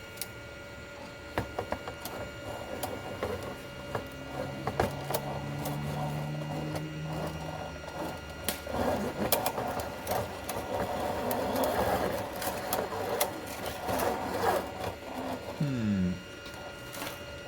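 A 3D printer runs while printing, its stepper motors whirring and buzzing in shifting tones with scattered clicks and ticks, moderately close and continuous.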